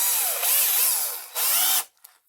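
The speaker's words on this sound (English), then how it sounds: "This is going to be the guide hole, and then I'm going to drill to," Power drill boring a 3/16 guide hole, a loud close high whine that runs, dips, surges again and then cuts off abruptly.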